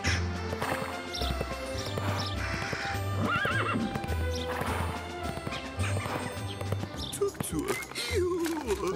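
Horse hooves clip-clopping in a steady rhythm with whinnies and neighs rising over them, set against busy movie soundtrack noise and background voices.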